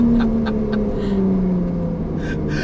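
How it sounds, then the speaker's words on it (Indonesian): Inside a Ferrari 296 GTB hybrid, the petrol engine starts up and takes over from the electric drive, giving a rising tonal hum over road rumble with a few brief higher bursts. "Kayak mesin listriknya langsung bangun mesin bensinnya gitu."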